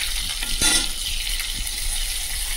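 Slit green chillies and chopped garlic frying in hot oil in a wok, a steady bright sizzle with a brief louder crackle near the start and faint stirring clinks, no talk.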